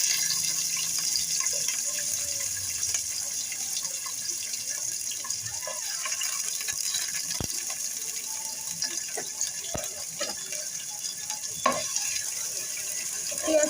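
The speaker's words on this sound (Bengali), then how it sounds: "তেলটা হালকা গরম হয়ে আসলে আমি সেখানে একটু পেঁয়াজ দিয়ে দেব একটু পেঁয়াজ দিয়ে দিচ্ছি" Onion goes into lightly heated oil in a pan, giving a steady soft sizzle throughout with occasional small clinks and stirring knocks in the foreground.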